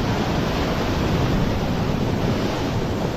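Sea waves at Mousuni Island give an even, moderately loud wash of noise, steady and unbroken for about three seconds, with some wind mixed in and no voices.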